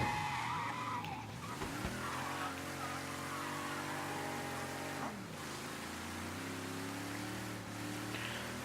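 Car driving and drifting in the Mafia 3 crime game, a steady engine drone with a long tire skid and rising and falling engine pitch, continuous and moderately loud, with no talking.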